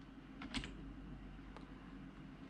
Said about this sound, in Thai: ลองพิมพ์ดู